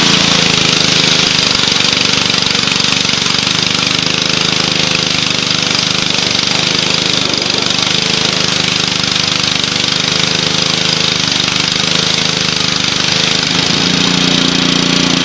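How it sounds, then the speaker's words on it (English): A gasoline pressure washer engine salvaged from the dump runs steadily and loud throughout, a constant chugging mechanical drone with a knocking undertone and no breaks. "Starts and runs perfect, and the pressure washer doesn't leak, and it works as it should."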